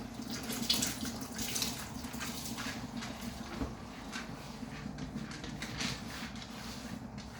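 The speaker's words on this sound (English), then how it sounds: "now I'm going to pour it into my boiling stew" Washed rice pours steadily into a pot of boiling stew, a continuous watery rush and splash with a soft clunk partway through, no voices.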